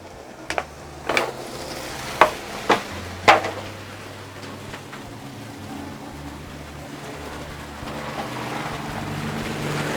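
Leftover rice dumped onto a hot griddle for fried rice, giving a broad steady sizzle with a few sharp scraping clatters early on, close and moderately loud with no talk.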